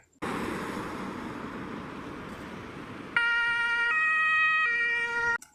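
A red toy fire rescue truck sounds off: first a rushing, noisy engine-like whir, then a loud electronic siren cycling through steady alternating tones for a couple of seconds.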